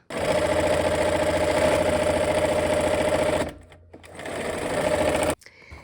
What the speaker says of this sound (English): sew these basket pieces to that background plaid